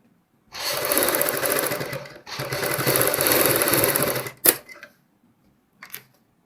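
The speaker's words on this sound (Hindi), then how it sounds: "हमने इसके ऊपर इस तरीके से पाइपिंग के साथ साथ फिर ऐसे सिलाई लगानी है" Sewing machine stitching piping onto a kurti half-band neckline, running in two long continuous bursts of rapid whirring stitches, then a few short taps and a brief final run, close and loud with no talk.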